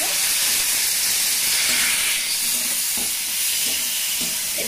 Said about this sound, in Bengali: একটু পরিমাণ মতো জল দেবো, ভেজে দেবো।